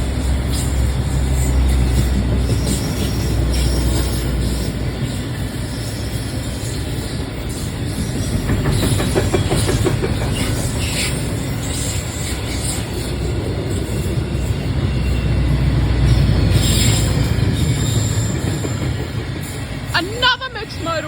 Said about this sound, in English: Another mixed modal freight train.